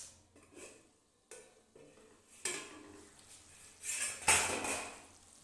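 A metal lid clatters onto a cooking pot of chicken and potato curry, giving a series of sharp clinks and scrapes that get louder toward the end, with no voices.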